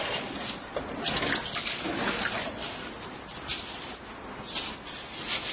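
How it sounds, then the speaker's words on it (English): Water runs steadily into and around a basin as it is rinsed during fingernail care, a continuous splashing, gurgling stream from a faucet close by, with no talking. "We rinse our basin."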